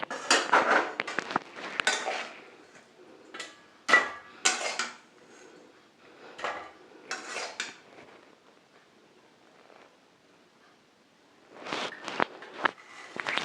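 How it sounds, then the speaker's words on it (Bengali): Metal clatter of a lid lifted and spiced potato masala spooned onto a metal plate, with scattered clinks and scrapes in bursts and quiet gaps between, close by and without talk. "এরপর ঢাকাটা খুলছি আর একটা থালা নিয়েছি থালার মধ্যে আমি সার্ভ করে দেবো"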